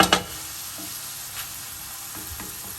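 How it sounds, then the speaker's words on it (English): Garlic sizzles in a pan with softened mushrooms for keto pork chops, a steady close frying hiss that opens with a few sharp clatters of stirring before settling to an even crackle. "the garlic has been cooking for about a minute"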